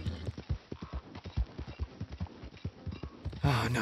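Horse hooves clop in a quick, steady gallop in Red Dead Redemption 2, close and rhythmic, ending in a loud burst of noise near the close; a neigh is not clearly evident.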